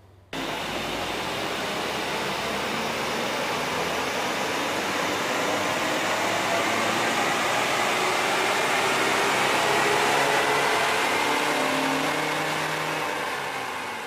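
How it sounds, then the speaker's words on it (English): Car engine held at steady high revs on a dynamometer during a power run after an air intake service, with a loud sustained roar that swells slightly toward the end and no talking. "let's do a dyno run and have a look at the results of that run"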